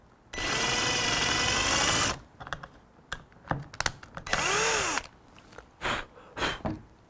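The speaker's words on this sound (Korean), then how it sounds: "홀을 뚫어 놓습니다" A power drill fitted with a center drill bit bores a pilot hole for a hinge, with a long, loud whining run followed by a shorter burst, separated by clicks and handling knocks.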